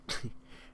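A dog's single short, harsh cough sounds nearby, followed by a quieter rasp, then a low hum.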